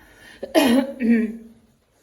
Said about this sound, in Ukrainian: Вибачте, що кашлюю, не вдержалась, застудилася